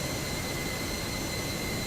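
Aircraft jet engine roaring during takeoff, a steady, loud broadband rumble with a constant high whine, heard alone without talk.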